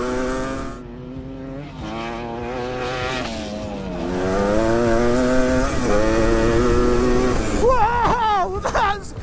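An ATC three-wheeler dirt bike engine revs and bogs while being ridden, a buzzing motor that rises and falls in pitch, with excited shouting over it toward the end.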